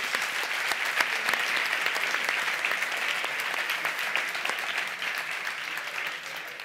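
Audience applause for the band at a live comedy stage show, dense steady clapping that fills the whole stretch, loud and continuous, with no one talking over it.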